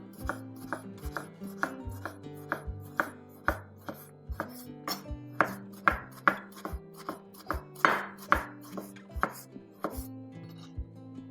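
A knife cutting tomato into strips on a cutting board, about two dozen crisp, evenly spaced chops in a steady rhythm, close and clear with no talking.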